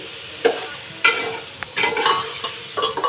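Stirring and frying in a pan in a home kitchen, a few scraping strokes with bursts of sizzle, close and fairly loud, arriving in irregular clusters without talk.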